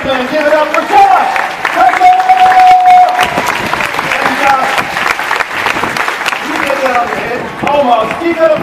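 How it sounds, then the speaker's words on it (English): Loud applause and cheering from a theme-park stunt show crowd at the Indiana Jones show at Disney, with a sustained whistle and whoops over dense clapping, while an announcer's amplified voice cuts in. "Give it up for Josh!"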